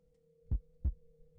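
Two soft, low heartbeat thumps in steady rhythm over a faint steady hum.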